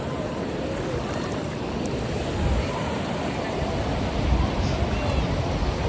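Continuous heavy surf rolls onto Kashid beach with wind buffeting the microphone, swelling slightly in loudness a couple of times, no clear talk over it.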